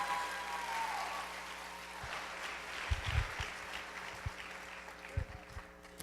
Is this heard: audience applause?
yes